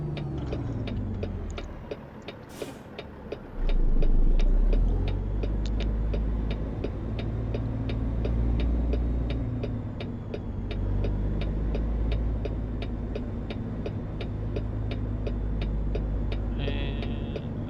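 Steady truck engine drone from American Truck Simulator, a continuous low rumble under a rapid regular ticking like a turn-signal or hazard flasher, holding at an even level throughout without talk.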